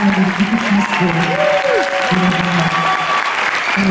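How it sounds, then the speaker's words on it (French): Sustained applause fills a concert hall in Lille for a singer, dense clapping from a large audience mixed with whistles and shouts, holding at a strong, even level for the whole stretch. "elle mérite vraiment encore plus d'applaudissements"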